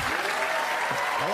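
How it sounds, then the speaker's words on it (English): A studio audience at a comedy show applauds in a broad, even wash of clapping, with a few faint whoops rising briefly through the sustained noise. "Some more applause for Dave, please."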